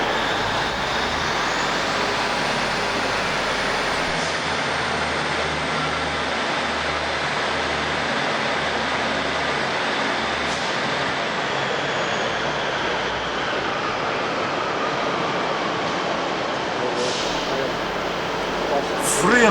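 A continuous loud rumble and roar of a passenger train departing a station platform at Carlisle, steady throughout with a slight hiss rising near the end.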